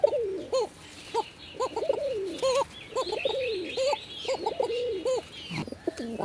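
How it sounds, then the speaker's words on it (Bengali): Desi high flyer Giribaz pigeons coo up close in a repeated series of soft, throaty, rising-and-falling calls, with fainter chirps from other birds in the background. "এইগুলো হচ্ছে হাই ফ্লেয়ার গ্রিবাস কবুতর"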